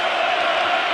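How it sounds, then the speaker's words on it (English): Basketball arena crowd cheering during a college game, a dense, loud roar of many voices held steady through a brief moment. "Crowd into it now"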